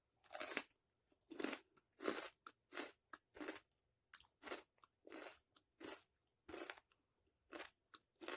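Crunchy cranberry food is chewed close to the ear, a rapid series of about fifteen sharp crunching bites in an uneven rhythm, with no talking.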